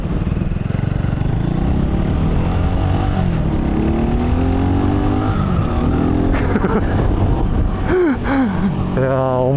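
A Mutt Motorcycles DRK single-cylinder motorcycle idles with a loud, steady thump, then revs up in a few smooth rising pulls near the end.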